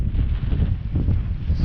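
Wind buffets the microphone on an extreme outdoor trip, a heavy, gusting low rumble that surges and dips without pause.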